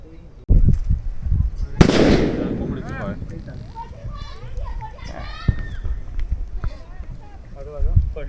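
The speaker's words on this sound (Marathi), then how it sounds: "आम्ही फटाक्यांच्या आवाजावर आलो" A few sharp firecracker bangs, one big crackling burst early on, with voices chattering and children calling out around them at a Ganesh idol immersion in the Konkan region.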